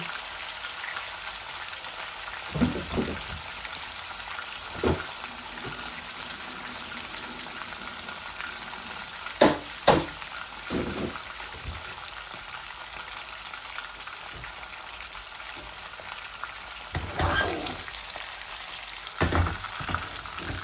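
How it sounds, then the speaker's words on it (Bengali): Bata fish frying in a pan gives off a soft, continuous sizzle at low level, broken by occasional louder clatters and stirring knocks. "আমি বসাই দিলাম মাছটা ভাজা। এই প্যানের মধ্যে আমি রান্নাটা করে ফেলবো।"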